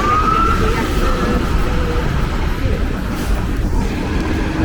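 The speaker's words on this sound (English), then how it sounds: "complete with fire truck sirens going off" Fire truck sirens wail on a busy Toronto street in winter, a faint rising and falling tone over heavy traffic rumble and loud street noise, with a voice speaking nearby.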